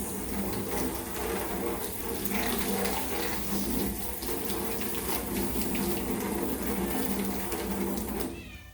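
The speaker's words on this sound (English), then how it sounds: "quick rinse." Running water rinses a plastic rabbit cage tray, a steady close splashing rush with no pauses that cuts off just before the end, and no one speaking.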